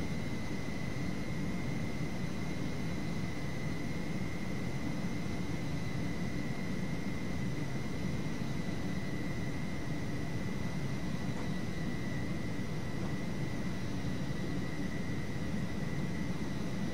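Steady roar of Boeing 727-100 jet engines in the FsPassengers flight simulator, a continuous broadband drone with a faint high whine, unbroken and even throughout with no voices.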